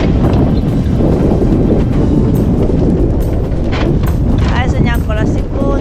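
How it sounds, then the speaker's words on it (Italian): Strong wind roars and buffets the microphone continuously on a boat at sea, a loud low rumble throughout, with a voice faintly heard near the end. "Vento è arrivato."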